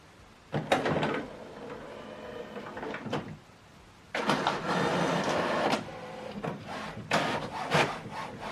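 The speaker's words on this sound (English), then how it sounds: "Now this document is printing." An office printer printing a double-sided color document: mechanical feed rumbles and rhythmic rubbing, sliding bursts come in two long passes separated by a short lull, with sharp clicks between, fairly close and alone.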